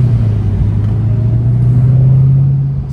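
A Ford Mustang Terminator Cobra with full exhaust driving in stop-and-go traffic, a deep, steady low exhaust rumble heard from close by that swells slightly, then eases off at the end.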